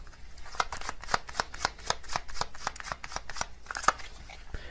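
A deck of tarot-style cards shuffled by hand: a quick run of crisp, evenly spaced card slaps and flutters, close and moderately loud, with no talking.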